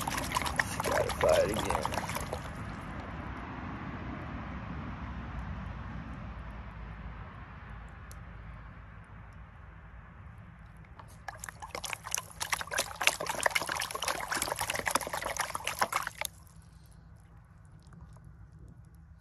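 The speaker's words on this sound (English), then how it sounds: "Rinse it off. Rinse off that top layer." Water sloshes and trickles as gravel is rinsed in a gold pan at a creek in Oklahoma, with splashing bursts at the start and again later, while a voice speaks briefly over it.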